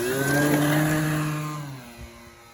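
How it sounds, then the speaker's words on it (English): A small RC model airplane fitted with a new wing takes off, its electric motor giving a loud, steady high whine that gradually drops in pitch and fades as the plane pulls away. "let's see how fast I can take off with this new wing"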